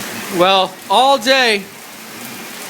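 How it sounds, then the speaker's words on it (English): Steady rain hisses softly in the background while someone speaks briefly over it, and the even patter continues on its own after he stops. "finally the rain has come"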